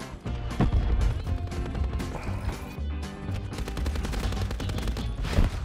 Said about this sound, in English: That's a fucking rocket.